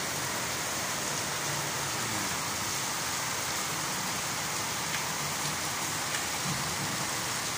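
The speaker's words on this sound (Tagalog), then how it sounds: "tampisaw ang mga kabataan sa ulan." Heavy rain pours steadily and loudly in a continuous dense wash, with no clear children's voices standing out above it.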